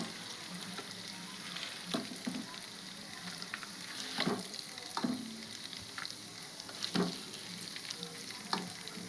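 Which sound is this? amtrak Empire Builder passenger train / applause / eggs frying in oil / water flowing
eggs frying in oil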